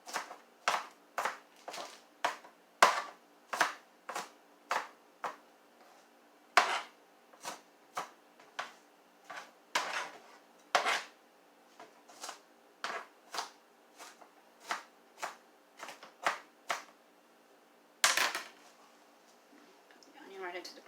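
A knife mincing vegetables on a cutting board for turkey noodle soup, sharp close taps in quick irregular bursts, clean and distinct against a quiet background.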